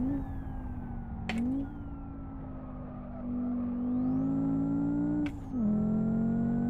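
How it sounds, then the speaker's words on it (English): A 5-cylinder car engine in the Live For Speed racing game rumbles steadily and loudly, revving up and down through gear changes with brief dips as it shifts, running continuously throughout with no talk. "It does sound very nice. A nice 5-cylinder rumble to it."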